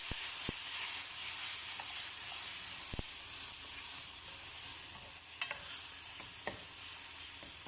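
Dried red chili sizzling in hot oil for sambar, a steady close frying hiss with occasional small pops and crackles, and no voices.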